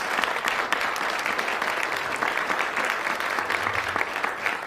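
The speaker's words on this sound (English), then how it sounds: "Can we give them a round of applause for their new business?" Audience applause at a city address honoring new local business owners, a sustained, even wash of many hands clapping at moderate distance that continues steadily without pause.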